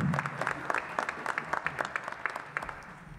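A community forum audience gives a quiet, steady round of applause for a pastor, the crisp claps sounding somewhat distant and continuing evenly throughout.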